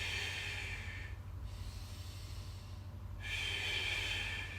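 A person breathes out during a standing Swiss ball exercise. Two airy, hissing exhales come close to the mic, separated by a quieter gap.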